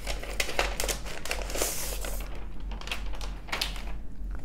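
Crinkly rustling and tearing of packaging as a space gray MacBook Pro laptop is unwrapped, close and continuous with scattered sharper crackles, no talking.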